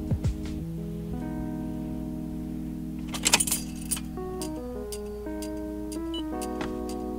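Car key turning in the ignition of a Subaru BRZ running E85, giving a few metallic jingles and clicks, followed by steady electronic tones and chimes from the dashboard, close and moderately quiet.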